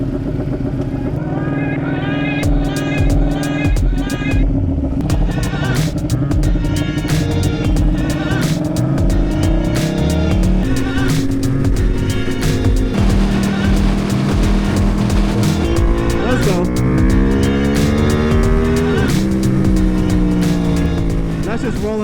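A modded 2021 Ducati Panigale V2 motorcycle engine under throttle on the road, loud and continuous, revving up through several gears with rising and falling pitch sweeps, a rider's voice talking over the engine and wind.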